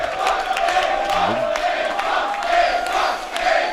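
A large crowd roars and cheers continuously, a dense wash of voices and whoops in a big space, with scattered claps.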